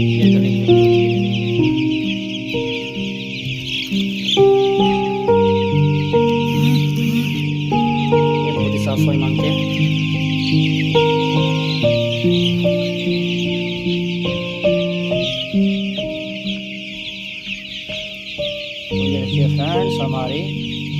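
Hundreds of nine-day-old broiler chicks in a poultry farm shed keep up a dense, continuous chorus of high peeping and chirping, loud and close throughout.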